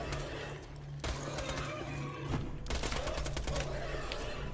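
Rapid bursts of automatic gunfire with heavy recoil rattle in a video game, with dense crackling volleys that pause briefly and then resume louder.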